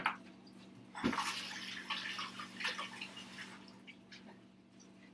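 Running tap water pours steadily as hands are rinsed under it after cutting a watermelon radish, a continuous close splashing wash that fades slightly toward the end.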